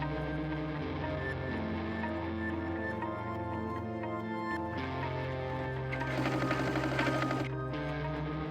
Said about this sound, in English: understitch the binding to the seam allowance using my stitch in the ditch foot